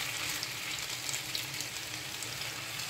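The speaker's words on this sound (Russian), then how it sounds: "засыпал я всю нашу картошку. Она начинает жариться." Potatoes frying in a pan give a steady, soft, even sizzle that carries on without a break and without any talk.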